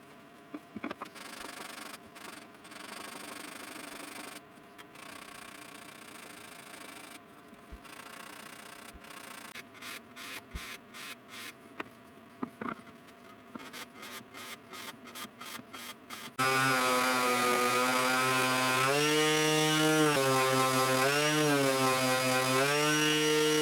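A power tool bevels and sands the pieces of a wooden coffee table. A lighter, irregular rasping with sharp ticks gives way to a loud, steady, high-pitched whine that holds to the end.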